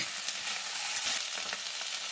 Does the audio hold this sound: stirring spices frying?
yes